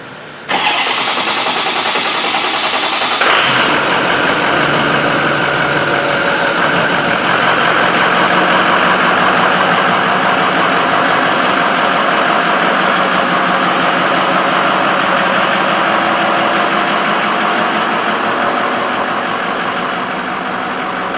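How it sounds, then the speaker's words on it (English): Ford 6.0 diesel engine cranking and catching, then settling into a loud, steady clattering idle that runs on without a break for the rest of the stretch, close to the listener. "start it up. Just let it run until it gets to 180 degrees"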